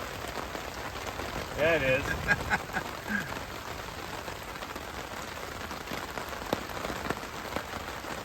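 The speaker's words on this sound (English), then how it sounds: "Rain again." Steady rain patters on a large tarp shelter at a Vermont campsite during a storm, a dense continuous hiss with a few voices talking briefly over it.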